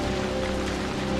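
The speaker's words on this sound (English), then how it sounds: "Let's run through the rain." Rain pours in a steady, dense hiss, continuous and fairly loud with no break or other sound over it.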